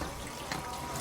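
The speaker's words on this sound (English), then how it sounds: "How's that water temperature for you, Mrs. Ware?" Water runs from a tap at a comfortable temperature in a steady, moderate splash that lasts about a second, close by and alone.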